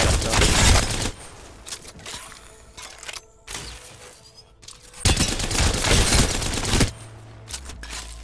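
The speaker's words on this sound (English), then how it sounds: "try controlling your recoil by shooting at the fast jump" Gunfire from Apex Legends recoil-control practice: loud sustained automatic bursts, one near the start, a shorter one around three and a half seconds, and a long volley midway, with quieter game noise in the gaps.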